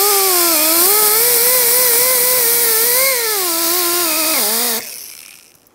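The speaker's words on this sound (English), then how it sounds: "We're going to come back in with our angle tool here with a mild abrasive on it." Angle tool fitted with a mild abrasive cleaning the rear brake hub of a 2007-2015 Mazda CX-9, a loud, close, steady whine that wavers in pitch under load before dropping and winding down at the end.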